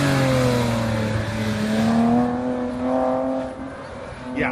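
A Porsche fitted with an aftermarket muffler revs hard at an autocross event, its engine note climbing and falling in loud, close pulls before easing off near the end.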